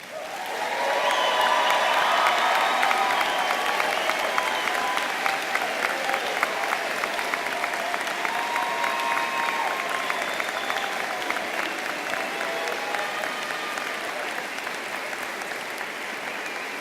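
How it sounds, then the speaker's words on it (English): A commencement audience applauds graduates, a sustained, even wash of clapping from a large crowd that swells quickly, holds steady, and tapers only slightly, with faint cheering mixed in and no speech. "give you a round of applause"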